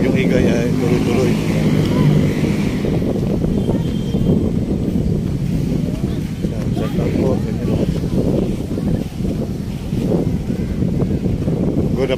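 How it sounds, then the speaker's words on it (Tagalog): Strong, steady wind from Typhoon Egay buffets the microphone at Manila Bay, a constant low roar lasting throughout while someone talks over it. "malakas ang hangin. Bagyong igay ay tuloy-tuloy."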